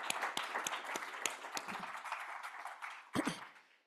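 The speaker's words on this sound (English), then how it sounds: "Round of applause for the library" A small audience at a law school library book talk gives a short round of applause, with distinct individual claps close by and a brief burst near the end.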